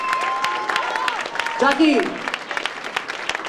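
An audience at a dance center's final event applauds steadily, with a man calling out a name over the clapping.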